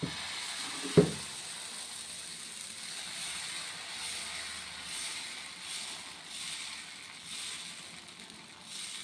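Dosa batter sizzles on a hot pan with a steady, soft, quiet hiss, opened by a single sharp click near the start.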